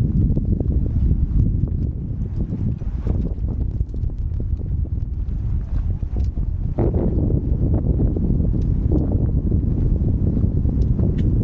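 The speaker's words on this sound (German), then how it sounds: "Gibt es richtigen Wind." Strong wind gusts on the mountain trail up to Roque Nublo, a heavy low rumble of wind buffeting the microphone that runs steadily throughout.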